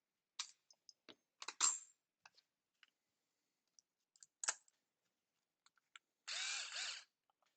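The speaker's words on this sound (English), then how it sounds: "Get the drill out." A cordless power drill runs in one short whirring burst near the end, after a series of scattered clicks and handling taps in a quiet room.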